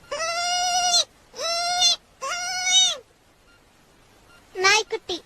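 A goat kid's bleats, probably imitated by a human voice in a comedy scene: three long, wavering, nasal cries, a pause, then a short burst of quicker bleats.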